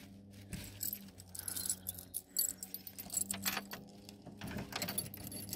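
Car keys jangle and rattle in short, irregular bursts, close and fairly quiet, while a Škoda 1000 MB is being unlocked; no one speaks.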